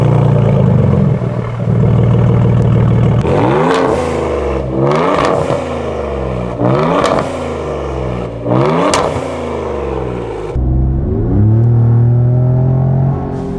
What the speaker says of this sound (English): What you just heard is the Turbosmart blow-off valves.